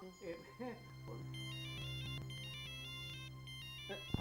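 A telephone rings indoors in a home, a repeating electronic bell tone heard at moderate distance while people talk over it at the start and end.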